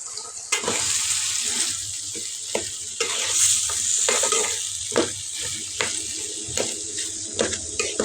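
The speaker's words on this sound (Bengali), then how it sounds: "আমি প্রথমে আলুগুলো দিয়ে দিছি, আলুগুলোকে একটু কষিয়ে নিব মশলার সাথে।" Potatoes fry with spices in a pan, a constant hissing sizzle with repeated scraping stirs at an irregular rhythm, close and fairly loud, with no voices.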